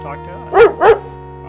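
Two quick barks from a dog in a video game, loud and close against a steady background hum, one right after the other.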